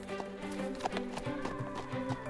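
Horse hooves clip-clopping along an equestrian riding trail in North Carolina, a steady, moderately close rhythm of soft hoof strikes with a faint background hum.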